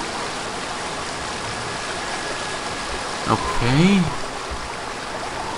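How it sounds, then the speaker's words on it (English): Loud waterfall pouring from a pipe in an Indiana Jones game, a constant broad rushing wash of water filling the background, with a voice briefly speaking over it. "Why is this goddamn waterfall so damn loud? It even comes from a pipe,"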